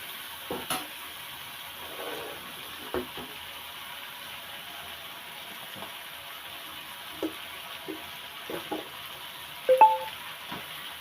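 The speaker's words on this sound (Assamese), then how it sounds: "দি পেলাই আকৌ ধুনীয়াকৈ ফ্ৰাই কৰি লওঁ" Broiler chicken pieces and cut potatoes fry in a pan, giving a soft, steady sizzle with a few faint clinks and stirring taps, and no talk.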